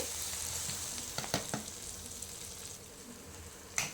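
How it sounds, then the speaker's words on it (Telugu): Steady sizzle of paste frying in hot oil, with a few brief louder crackles and stirring scrapes over a continuous hiss. "అల్లం వెల్లుల్లిపాయ పేస్ట్ పచ్చివాసన పోయేంత వరకు చక్కగా ఫ్రై చేయాలి"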